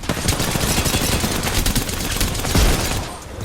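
Dense, continuous gunfire in Apex Legends, rapid overlapping shots and bursts filling the whole stretch at close range.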